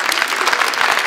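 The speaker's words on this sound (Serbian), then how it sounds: "dajte ko ima decu da čujem taj aplauz" A stand-up comedy audience bursts into loud, dense applause, a steady close wash of clapping with no voices over it.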